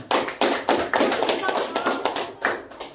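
Students in a classroom clap hands in a quick series of sharp, close claps, loud and uneven, with some chatter mixed in.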